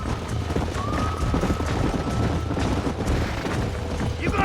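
Horses gallop with steady clip-clopping hooves and a whinny in the western video game Red Dead Redemption, while characters talk over the busy, close hoofbeats.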